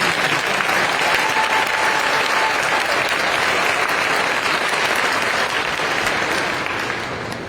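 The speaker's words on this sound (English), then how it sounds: "we can give these outstanding students a round of applause" Loud, sustained applause from a large audience, continuous and even throughout before tapering slightly at the end.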